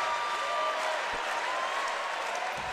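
A loud, flag-waving home crowd fills a Toronto arena during a Pan Am Games basketball semifinal between the USA and Canada, a dense, steady roar of cheering and applause throughout.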